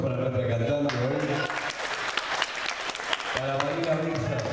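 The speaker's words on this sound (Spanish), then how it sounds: "Aplausos para nuestra cantante." Audience applause for a singer at a diploma ceremony, a burst of clapping in the middle with a voice talking before and after it.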